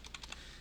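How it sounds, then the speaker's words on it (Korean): Keys clacking on a computer keyboard with a stiff, hard-to-press shift key, a handful of quick, close taps spread unevenly across a brief moment of coding work. "이 키보드가 시프트가 잘 안 눌려지는 경향이 있네요"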